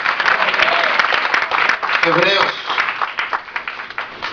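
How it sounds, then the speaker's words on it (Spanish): Applause from a church congregation during a Spanish-language Sunday sermon, a steady broad wash of clapping with voices over it that thins into scattered claps by the end. "Da un aplauso en esta mañana"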